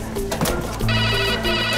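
A telephone rings in an office with a steady electronic trill that starts partway through and keeps going, fairly loud over a murmuring background.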